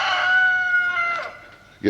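A rooster crows once, a long sustained high call that trails off, followed by a brief cluck near the end.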